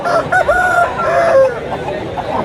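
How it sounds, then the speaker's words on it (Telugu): Roosters crow at a rural country-chicken market in Anakapalli, Andhra Pradesh, several overlapping calls close by, with a busy crowd murmuring underneath. "ఇవి పుంజులు అని చెప్తున్నా"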